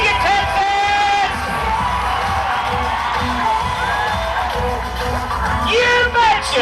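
A crowd at a Texas rodeo in Brenham cheers, shouts and whoops loudly and continuously, a dense close roar with high whistling yells rising through it.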